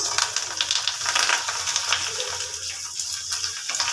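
Tempering for pepper rasam crackles and sizzles in hot oil, a busy, close hiss with rapid popping bursts and a low background rumble throughout.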